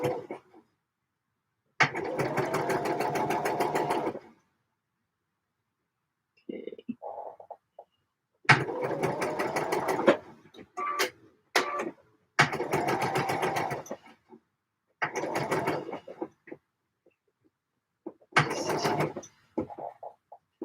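Sewing machine stitching a seam on a Vogue 8947 dress, running in several separate bursts of steady mechanical whirring, a few seconds each, with quiet pauses and small handling noises between them.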